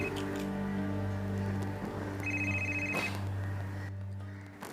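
A telephone rings with a sustained electronic ringtone, steady tones joined midway by a fast trilling pulse, moderately loud and with no talking over it.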